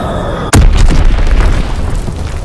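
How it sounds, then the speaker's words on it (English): A loud, sudden bomb blast from a World War II shooter game, Call of Duty WW2, hits with a sharp boom and rolls into a long rumbling tail of debris and distant detonations. "Dropping Flitzex bomb."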